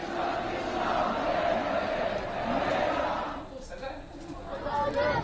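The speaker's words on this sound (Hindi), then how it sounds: "बांग्लादेश में एक हिंदू संस्था ने सामूहिक तौर पर भजन गाकर अपना विरोध जताया" A large crowd of Hindus gathers in Bangladesh to sing bhajans in protest, producing a dense, loud wash of many voices that drops slightly for a moment and then swells again.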